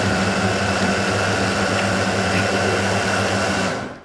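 A food processor blending cacao buttons with maple syrup, a loud steady motor whir held at an even pitch throughout before cutting off at the end.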